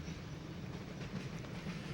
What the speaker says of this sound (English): half of the loads on this train are gondolas of scrap and steel coils